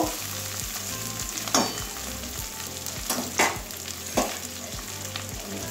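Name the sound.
frying taro in pan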